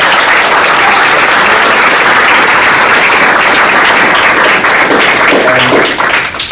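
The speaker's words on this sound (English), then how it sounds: "Let's give them a round of applause." An audience at an Illinois School District 219 board meeting breaks into loud, sustained applause, a dense wash of many hands clapping that holds steady and then starts to fade at the end.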